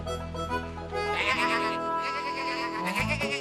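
Cartoon sheep bleating in a children's tractor cartoon, several drawn-out wavering bleats overlapping, loud and close over a soft musical background.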